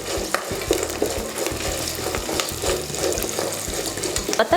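Dried turkey berries sauté in oil in a pan for vathal kuzhambu, a close, steady sizzle broken by repeated scrapes and knocks of a stirring spoon.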